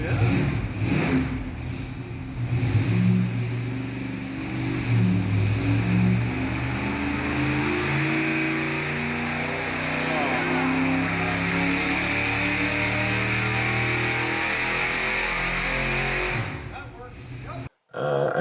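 A stock Ford 460 V8 revs hard on a dyno, a loud sustained roar with rising and steady pitch for most of the pull before cutting off abruptly.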